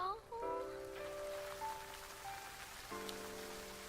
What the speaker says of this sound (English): Ah, rain. So soothing. This is a very nice rain scene too